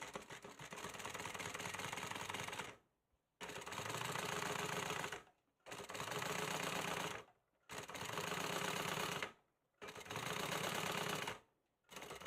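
A sewing machine runs in five steady bursts, separated by short pauses, as it top stitches fabric; the whirring hum is close and even.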